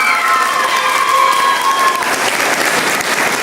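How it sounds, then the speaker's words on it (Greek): Loud audience applause for an athlete at a Greek pita-cutting celebration event, a sustained dense roar of clapping with crowd noise and a few cheers mixed in, a faint tone lingering early on. "Θα ήθελα ένα πολύ δυνατό χειροκρότημα"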